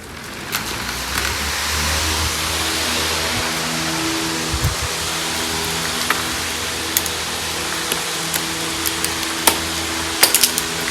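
A Volkswagen Type 4 engine in a Porsche 914, running with a freshly fixed carburetor and a suspected head gasket problem, gives a steady broadband idle rumble with a low droning hum and a few faint clicks, close by and alone.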